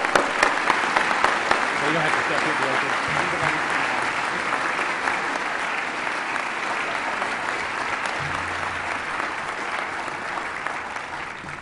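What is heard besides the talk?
applause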